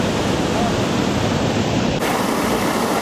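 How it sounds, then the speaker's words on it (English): National Creek Falls roars in a dense, steady wash of close falling water, loud and unbroken, with spray buffeting the microphone. "That's National Creek Falls, and now my camera is soaked."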